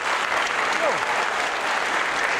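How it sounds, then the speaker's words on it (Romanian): Audience applause for the Ozana ensemble, a steady dense wash of clapping from a full hall, loud and unbroken for the whole stretch. "Ansamblu Ozana, aplauzele noastre."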